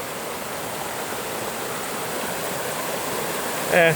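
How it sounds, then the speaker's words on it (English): A small mountain waterfall splashes in a steady, close rushing hiss that continues unbroken, with a brief knock or voice-like burst near the end. "I thought I saw a little waterfall up here."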